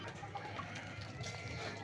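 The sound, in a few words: pigeons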